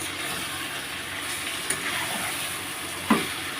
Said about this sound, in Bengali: দিয়ে এবার আমি আবার একটু ভালো করে কষবো